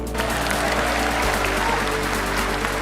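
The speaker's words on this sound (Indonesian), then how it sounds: "Tepuk tangannya, kurang semangat." Steady crowd applause fills the space, a broad wash of clapping at moderate volume with a low hum underneath and no clear speech.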